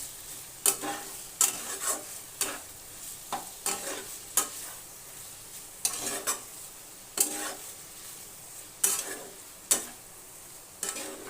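A spoon stirs snake gourd curry with poppy seeds in a pan, scraping in a repeated rhythm over a continuous low sizzle, close and clear with no voices.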